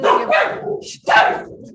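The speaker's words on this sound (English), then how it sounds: "sorry about my dogs" Dogs barking indoors, a few loud, close barks in quick succession with a short pause between bursts.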